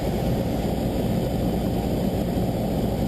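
Steady, loud drone of a small propeller airplane engine at descent power, continuous and even throughout, with no voices.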